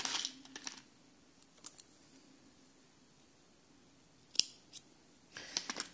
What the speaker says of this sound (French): Donc là, du coup,